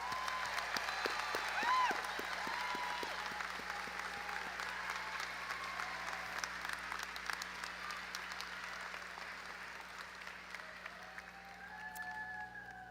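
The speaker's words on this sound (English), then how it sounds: "let's give a round of applause for these graduates" At a high school graduation ceremony, a large audience applauds graduates enlisting in the military, a broad, fairly distant wash of clapping with a few cheers, sustained throughout under a low hum in the hall.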